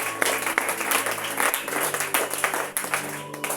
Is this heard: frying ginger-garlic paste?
no